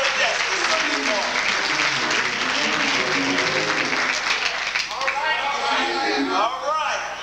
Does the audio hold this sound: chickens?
no